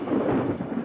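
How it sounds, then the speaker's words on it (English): Thunder rolls as a deep, dense rumble, sustained and fairly loud throughout, with no voices over it. "the flash of lightning, the roar of thunder"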